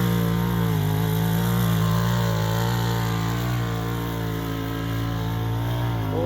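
Kawasaki Ninja 400 motorcycle engine held at full throttle, a loud, close, sustained buzzing roar with a steady pitch that wavers slightly, no talk.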